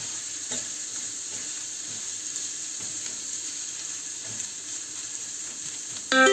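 Tomato paste sizzles steadily as it is sautéed in a pan with minced meat, pepper and onion, a constant close frying hiss with light stirring clicks and a louder burst of sizzle at the very end.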